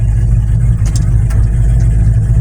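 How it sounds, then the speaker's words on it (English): A 1963 Chevy C10 with a swapped 5.3 LS V8 rumbles loudly through its exhaust, a deep, steady low-end drone close up with a couple of brief sharp accents, no talking. "Until you hear its rowdy nature in the exhaust note"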